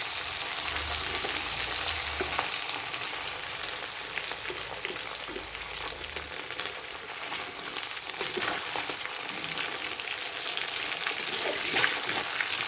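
Fish head and fish fat frying in hot oil, giving a dense, continuous close sizzle and crackle with occasional faint spatula scrapes.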